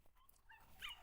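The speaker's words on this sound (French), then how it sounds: "Odin est un Rottweiler de grande qualité" A Rottweiler gives a faint, brief whimper, a thin rising whine that peaks near the end of a quiet second amid low background noise.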